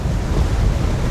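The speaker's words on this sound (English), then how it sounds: "It's quite windy" Strong wind buffets a camera microphone on a coastal landscape, a steady loud low rumble with no breaks and no voices.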